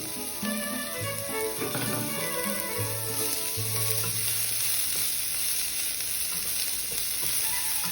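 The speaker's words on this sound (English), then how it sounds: "immediately you need to add onion and green chili. So keep frying, just keep frying." Onion and green chili fry in hot oil for peas rice, a steady close sizzle that runs the whole time, with a few soft stirring scrapes and no speech.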